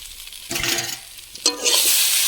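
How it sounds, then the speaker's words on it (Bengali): Potatoes and spices fry in a pan while being stirred, with bursts of loud scraping and sizzling and brief pauses between strokes, close and without talk. "আলু মশলা সমস্ত কিছু ভালোভাবে ভাজা ভাজা হয়ে গিয়েছে"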